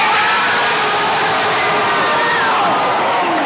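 A crowd cheers and roars loudly at a high school wrestling dual match after a reversal, a sustained wall of shouting and whooping with no break.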